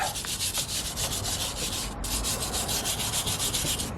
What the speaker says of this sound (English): we're just going to give it a cheeky wire brush just to clean the surface